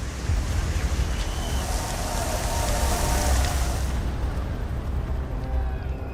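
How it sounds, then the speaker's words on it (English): Heavy rain pours steadily outdoors during a Tour de France stage, a dense, loud hiss that stays constant throughout with a low rumble underneath. "Look at the rain now, falling here at kilometre 0."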